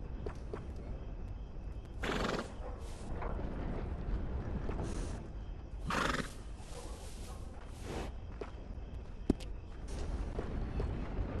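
A horse in Red Dead Redemption 2 whinnies and snorts in a few bursts, with soft hoof clip-clops and light wind in an outdoor game setting.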